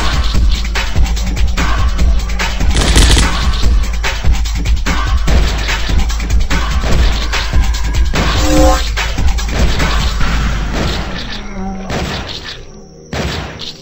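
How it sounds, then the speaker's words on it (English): Sniper gun firing in the Zombocalypse flash game, heavy booming shots in quick succession over a dense, loud game soundtrack with thuds and crashes, tapering off near the end. "Sniper gun."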